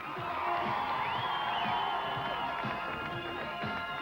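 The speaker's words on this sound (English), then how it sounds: "Give a round of applause." A crowd at a 1985 BMX freestyle show cheers and whoops in a steady, loud wash of voices and clapping, with scattered shouts rising above it for the whole stretch.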